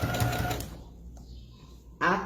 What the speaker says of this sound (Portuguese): pé de máquina, calcador e tecido, margem de meio centímetro, e vamos iniciar a costura